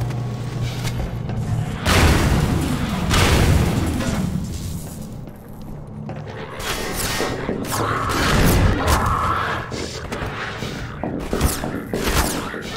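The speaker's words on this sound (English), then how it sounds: "Really? A grenade?" Heavy booms and crashing blasts fill a Half-Life 2 firefight, with a grenade explosion among repeated loud rumbling detonations and debris clatter, dense and continuous for several seconds.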